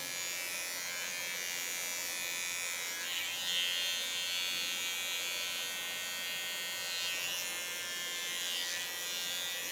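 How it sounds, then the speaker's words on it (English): A small electric hair clipper cuts short hair close to the microphone, giving a steady high buzz with slight swells as it moves over the head during a short platinum blonde haircut. "Take my small clipper."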